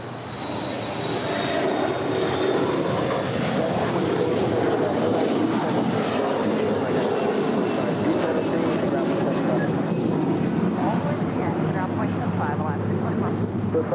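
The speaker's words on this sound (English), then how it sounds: "That is Aero Airways, Flight 9544, departing to New Orleans. It's 737-400" An Aero Airways Boeing 737-400 departs with a loud, sustained engine roar and a high whine on top, close by and steady, while voices talk over it.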